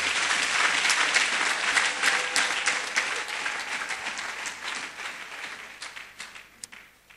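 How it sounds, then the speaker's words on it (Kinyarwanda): Audience applause at a church service, a dense crowd clapping steadily and loudly before gradually thinning out toward the end. "Reka tubakomera amashyi menshi cyane arenze ayo ngayo."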